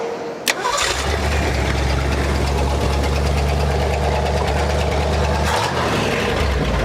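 A loud engine of an abandoned 1974 Ford Bronco, unrun for 35 years, cranks with a sharp click, catches and settles into a rough, rumbling idle that runs steadily close by, exhaust beneath a hole in the floor.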